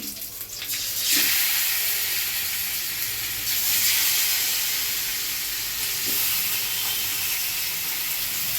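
Fish pieces sizzling in hot oil with curry leaves, a steady broad frying hiss with brief bursts of crackle as the fish goes in, close and continuous throughout.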